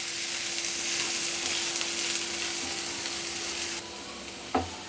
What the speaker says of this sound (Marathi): कांदा आपल्याला गुलाबी रंगावर परतून घ्यायचा।